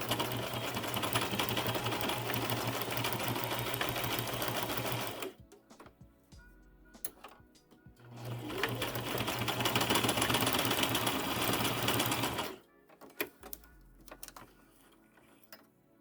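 Sewing machine stitching a small fabric scrunchie back and forth, two steady whirring bursts of about five seconds each, loud and close, separated by quiet handling pauses.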